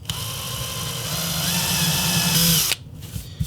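A power drill fitted with a half-inch Forstner bit bores a shallow indent into a prop part, whining steadily and close for nearly three seconds before spinning down and stopping abruptly.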